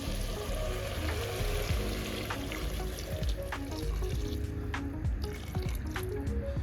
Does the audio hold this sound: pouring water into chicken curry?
yes